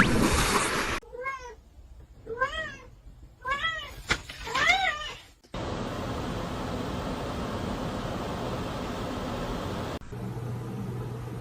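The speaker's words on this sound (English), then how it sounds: "Look at this little kitten." A small kitten meows in a run of short, rising cries with brief pauses between them, fairly close and clear. A steady hiss of background noise follows, with no talking.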